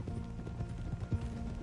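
Horse hooves clip-clop softly in Red Dead Redemption 2 as a rider nears the stables, muffled and low beneath a steady game ambience.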